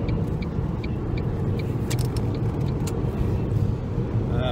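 Car driving along a road, heard from inside the cabin: a steady low engine and tire rumble continues throughout, with a few light ticks and clicks on top and no talk.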